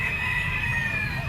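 A Boston white-legged stag rooster at a Grotto pet market crows in one sustained, bright, fairly loud call lasting just over a second, with no talking over it.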